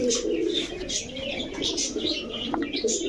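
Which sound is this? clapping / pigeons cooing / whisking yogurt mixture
pigeons cooing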